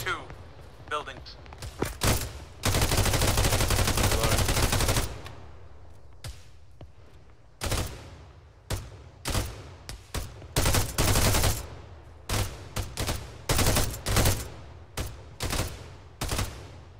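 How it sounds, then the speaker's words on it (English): Gunfire from buildings in an Arma 3 combat operation: repeated sharp single shots and sustained automatic bursts, some long and loud, others shorter, crackling in irregular clusters as voices talk over the fighting. "More shots coming from 242 buildings."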